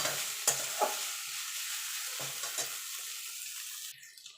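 Boiled chowmein being stirred and mixed with egg in a pan on low gas, giving a soft sizzle with a few clinking stirring strokes, fairly quiet and close, no talking.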